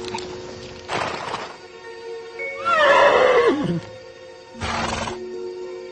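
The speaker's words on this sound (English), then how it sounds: "now we have to go help the horse" A horse whinnies loudly and close by, a rising then falling neigh, framed by bursts of rough noise before and after.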